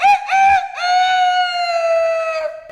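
A person's voice imitates a chicken, with a short clucking burst followed by a long, loud, drawn-out crowing cry close to the microphone.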